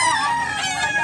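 A rooster crows at a Cebu cockfighting chicken market, its strained, drawn-out call close and loud for about a second over a busy background.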